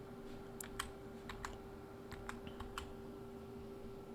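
Quiet, irregular clicks of a computer keyboard as text is typed into a table in Canva, a handful of separate keystrokes over a steady low hum, with no voices.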